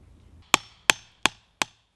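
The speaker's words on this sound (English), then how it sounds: "the tactic we're going to go with is just chiseling it out." Chiseling leftover wood and wedges out of an old axe eye: five sharp hammer-on-chisel strikes at a steady, even pace, each a crisp close knock with a short ringing tail.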